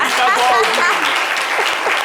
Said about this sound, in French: Applaudissez pour Odile.